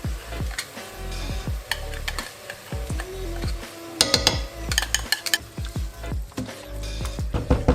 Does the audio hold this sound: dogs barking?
no